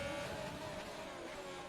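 McLaren and Mercedes Formula 1 cars in a racing video game, producing a brief, steady engine whine with a sustained tonal hum at moderate loudness and no pauses.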